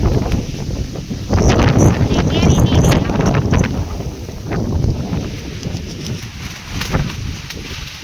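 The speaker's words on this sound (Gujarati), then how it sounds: "પવન ચાલુ થઈ ગયો તો" Strong gusty wind ahead of rain buffets the microphone with loud rumbling bursts, while a few words are spoken faintly underneath.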